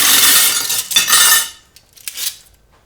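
Metal cutlery clattering and clinking as it is loaded into a dishwasher basket, a busy rattle followed by a few lighter, separate clinks.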